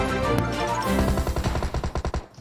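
Gunfire in a mobile shooter video game during a squad team fight, starting as a dense loud burst, then breaking into a rapid rhythmic string of close shots that fades out at the end.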